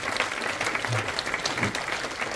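An audience at the closing of a Polish sound workshop claps in a dense, steady wash, with a low voice briefly audible beneath the applause.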